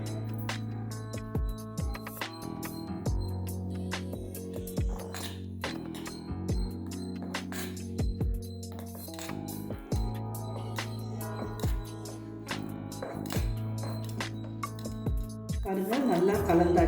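Dosa batter made with mudakathan keerai, salt and pepper stirred in a bowl, giving a steady run of clinks and scrapes against the bowl, some sharp and clustered, with a brief burst of louder clatter near the end.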